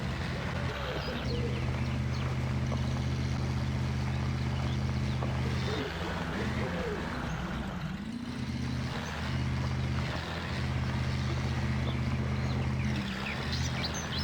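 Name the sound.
monster truggy truck engine in Spintires video game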